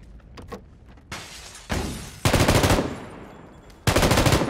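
Video game gunfire comes in several loud bursts of rapid automatic shots separated by short pauses, with the later bursts heavier and closer. No voices are heard over it.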